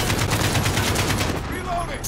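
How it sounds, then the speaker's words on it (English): Rapid machine-gun fire in the Call of Duty Modern Warfare campaign, a loud, dense, steady stream of shots that cuts off abruptly near the end. "Get the pressure fire on that MG!"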